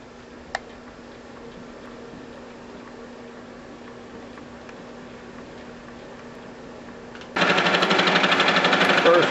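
An aluminum spacer for a transmission mount is cut on a milling machine: a quiet, steady machine hum with a faint tone runs for several seconds, then a loud, dense cutting chatter kicks in abruptly near the end.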